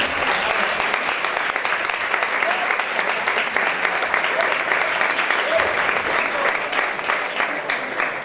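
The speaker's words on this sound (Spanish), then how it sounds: "todos los que hacéis teatro merecéis el primer aplauso de la noche" Sustained applause from a theatre awards audience, dense steady clapping of many hands that fills the whole stretch at an even level, with no voices standing out.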